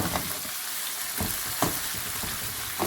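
Eggplant and potato masala with tomato purée fries in a pan with a steady, close sizzle, and soft stirring scrapes come in now and then.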